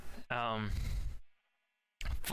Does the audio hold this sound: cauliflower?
no